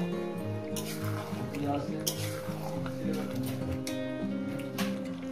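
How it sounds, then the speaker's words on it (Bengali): Chicken pieces with potatoes stirred and slowly fried in a pan for a spiced Bengali chicken curry, a steady scraping and sizzling texture with faint clinks, mixed under continuous background music. "কত সুন্দর করে আমি কষিয়ে নিচ্ছি।"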